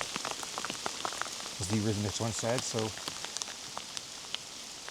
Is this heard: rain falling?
yes